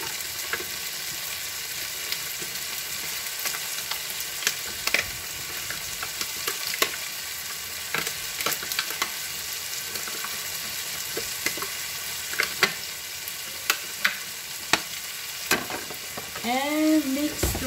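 Cubed bacon fries in a pan with a steady, dense sizzle and crackle throughout, broken by occasional stirring scrapes and clinks, close and loud with no talk.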